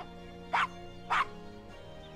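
A small dog in the adventure game Gabriel Knight gives two short, sharp yaps about half a second apart, followed by a fainter third, over a soft background hum.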